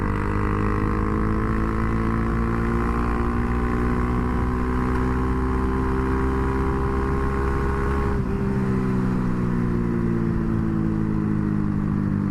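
A Honda Grom motorcycle fitted with an aftermarket 402 Innovations carbon fiber exhaust idles steadily with a deep, throaty exhaust rumble, close and loud, its pitch dropping slightly partway through.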